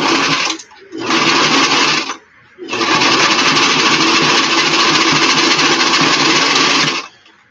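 A sewing machine stitches a flat cap in three loud, steady whirring bursts, the second about a second long and the last running several seconds, separated by brief pauses.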